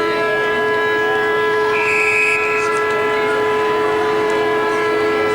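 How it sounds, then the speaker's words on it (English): A stadium siren blares at the second-half restart of a 1988 VFA Australian football match between Brunswick and Williamstown, a loud, sustained steady tone held throughout over crowd noise. "I think the siren's stuck."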